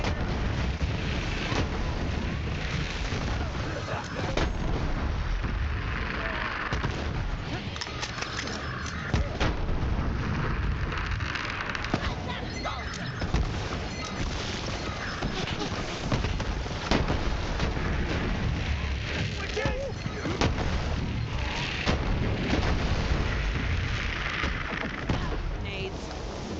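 Grenade explosions and gunfire in the shooter game Borderlands 3, with dense, continuous loud blasts and booms running for the whole stretch amid game noise.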